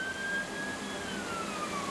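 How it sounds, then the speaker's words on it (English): A faint siren wails in the distance, its tone sliding slowly downward over a steady background hum, alone without talk. "That's the third siren."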